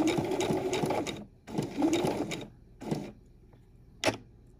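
A sewing machine stitches quilting fabric in short bursts, running forward and then reversing to lock the thread. Three buzzing runs of about one to one and a half seconds each are broken by pauses, followed by a sharp click.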